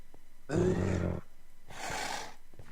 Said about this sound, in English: That sounded like a warg.